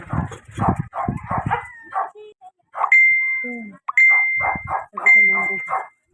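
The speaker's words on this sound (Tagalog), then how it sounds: "may mga aso" Dogs at a rural provincial house yip and whimper in short bursts, fairly close, mixed in with a person talking throughout.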